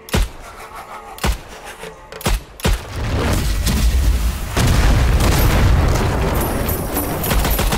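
A grenade detonates in Strange Brigade with several sharp, loud booms, followed by a sustained roaring rumble of blast and debris that builds and stays heavy to the end.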